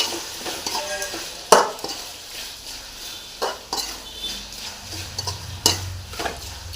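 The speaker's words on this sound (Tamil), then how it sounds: "உப்பையும் போட்டு நல்லா ஃப்ரை பண்ணிங்க." Onion and tomato fry with salt in a pan, a steady close sizzle broken by sharp metal clinks and scrapes of a spoon stirring against the pan, repeating every second or two.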